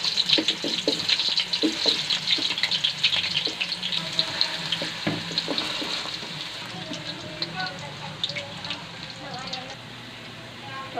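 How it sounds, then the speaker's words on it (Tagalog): Potatoes and carrots frying in cooking oil for a chicken curry, a steady hiss and crackle with watery sizzling that softens over time, with faint talk in the background. "Ipiprito lang po natin kunti ang ating gulay, patatas at carrots."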